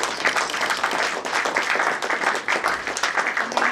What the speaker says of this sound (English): we want to appreciate him by clapping for him